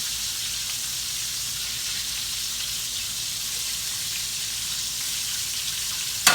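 Chicken wings fry in hot oil for honey BBQ wings, giving a steady, even hiss and crackle that holds at the same level throughout, close and uninterrupted, with no voices.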